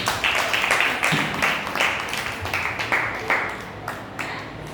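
At a women's church fellowship gathering, the crowd claps for the first-prize winner in a steady, rhythmic burst of hand claps at moderate volume, with faint voices underneath.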